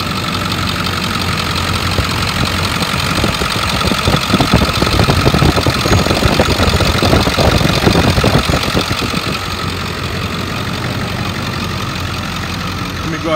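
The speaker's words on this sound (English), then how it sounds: "Idle smooth, revs up nice." A 2001 Ford F-350 Super Duty Crew Cab pickup truck engine idles steadily up close, a continuous low rumble with a brief stretch of slightly rougher, louder running in the middle.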